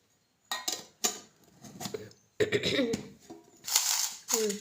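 A lid is fitted onto a lunch box packed with spinach dal and rice, giving a few close clattering knocks of container and lid. A voice and some coughing are heard nearby.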